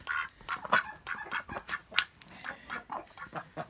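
Kholmogory geese and Rouen ducks honk and quack in a rapid run of overlapping calls, close and fairly loud, with no one talking.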